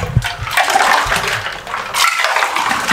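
Imli aloo bukhara sharbat poured over ice, a loud splashing, gurgling pour with clinks of ice, two bursts of liquid rushing close up, no talking.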